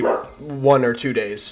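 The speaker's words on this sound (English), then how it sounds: "Sorry for the dog also in the background." A small puppy indoors barks and yips a few times in quick succession, close and fairly loud, overlapping a person talking.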